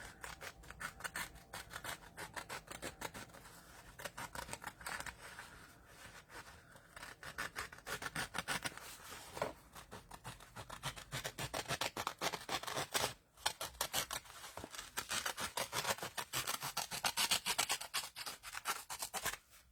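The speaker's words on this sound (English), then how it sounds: "we're going to cut it right along here" Scissors cut paper for a mermaid-themed journal in a long run of close, rapid snipping and rubbing strokes, with a short pause near the middle and no voices.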